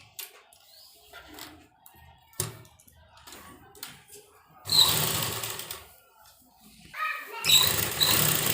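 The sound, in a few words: sewing machine stitching a folded kurta hem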